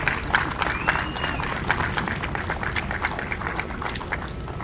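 Audience at a senior center groundbreaking ceremony applauds steadily, a dense wash of clapping at moderate distance that holds throughout without letup.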